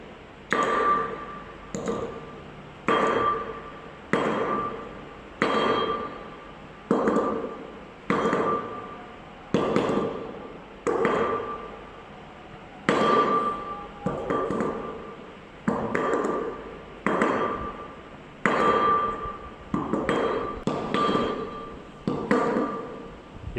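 A container of aggregate is jigged for a bulk density test, dropped side to side so that it strikes the floor. The impacts are sharp and ringing, repeating at an even pace about every second and a half, loud and close, with no talk.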